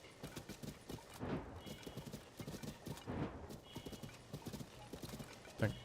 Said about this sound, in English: Thank God the horse jumps over that.